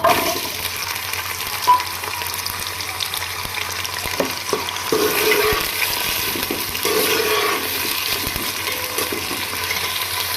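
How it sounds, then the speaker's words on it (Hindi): Taro pieces fry in hot ghee with a steady moderate sizzle and bubbling, punctuated by soft clinks and stirring noises, close up and without talk. "घी गर्म हो चुका है, अब हम इसमें अरबी डाल लेंगे"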